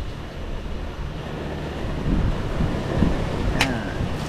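Steady wind rumbles and buffets against the microphone, a low continuous roar with gusts swelling toward the end.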